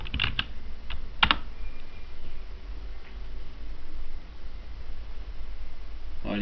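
Quick, close keystrokes tap on a computer keyboard while searching for clip art in a word processor, with a short burst of clicks at the start over a steady hiss of background noise.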